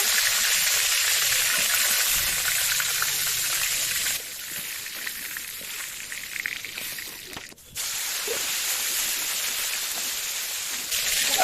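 Eggplant slices frying in hot oil sizzle with a steady, close hiss and crackle that runs throughout, dipping briefly in the middle before returning at full strength.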